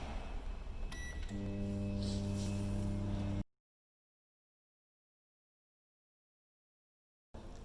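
Blanco BM32CX microwave oven starting up, a short click then a steady low hum for a few seconds before cutting to silence, close and alone.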